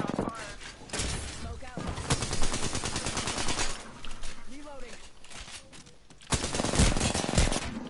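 Rapid automatic gunfire in Apex Legends crackles in repeated bursts, loud and close, mixed with shorter distant shots, while players talk over the action.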